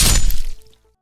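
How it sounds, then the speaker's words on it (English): A cage smashed in a struggle in a dubbed comic scene, one loud crashing break with cracking debris that dies away quickly into silence. "In the struggle, my cage was smashed."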